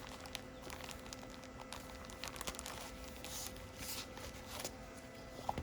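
Paper pack and cardstock sticker sheets from a scrapbooking workshop kit being handled at close range, with a steady run of soft rustling, crinkling and shuffling that carries on throughout.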